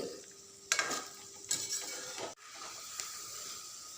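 Aloo pakora frying in hot oil and being turned over with a ladle, soft bubbling under sharp metallic scrapes and knocks against the pan, with a sudden dip in sound partway through.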